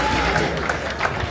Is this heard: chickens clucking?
no